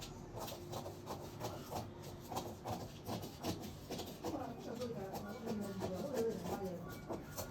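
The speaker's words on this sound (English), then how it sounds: "I'll cut it on the fabric." Shears snip through fabric while a blazer is cut out, a soft, rhythmic run of close cuts and rustling cloth, quiet and dry.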